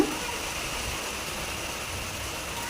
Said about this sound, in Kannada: ನೋಡ್ರಿ ಇಲ್ಲಿ ನೀರು ಹರಿಯಾದತ್ತಿ ಅಷ್ಟು ಮಳೆ ಬಂತ್ರಿ